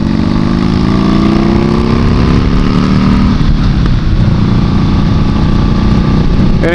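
A Buell motorcycle rolls up to a traffic light, its engine loud and close, the pitch sliding down as it slows before settling into a steady, rumbling idle.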